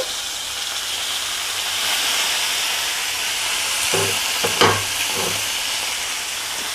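Eggplant and onion curry frying in a pan, a steady close sizzle and hiss with a few brief scraping stirs of a spatula near the end.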